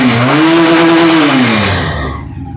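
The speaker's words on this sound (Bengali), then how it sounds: "আর একজোস্টের সাউন্ড শুনলে" Exhaust of a Pilder V3 motorcycle revving loudly and steadily up close, a strong droning engine note rising then easing off toward the end.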